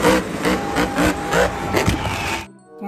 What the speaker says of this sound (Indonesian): Mobil monster.